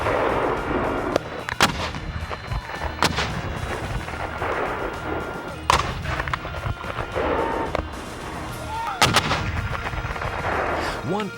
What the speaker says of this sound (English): And of course, there were cannons.